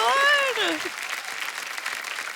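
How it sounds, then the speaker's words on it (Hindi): A studio audience at a comedy talk show claps for the performers, steady dense applause that starts under the end of a voice and then carries on alone at moderate loudness. "एक बार जोरदार तालियां हो जाएं हमारे कलाकारों के लिए।"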